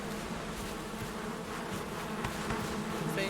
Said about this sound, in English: Things try to attack our bees when we're not around.